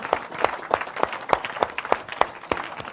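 A church congregation claps in a quick, steady rhythm, about ten sharp claps spaced evenly at roughly a third of a second, close and lively, with faint voices behind.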